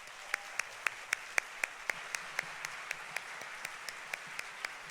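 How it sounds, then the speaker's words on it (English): An audience applauds class members walking onto the stage at an awards event; one sharp nearby clap repeats in a steady quick rhythm over a softer, continuous wash of background clapping. "Let's give them a round of applause."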